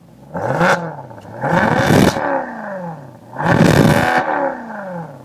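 A Maserati GranTurismo engine fires up and revs hard in loud, close bursts, rising to a roar, falling back to idle, then rising again in a second strong surge.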